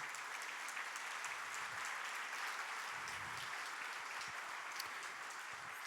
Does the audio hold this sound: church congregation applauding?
yes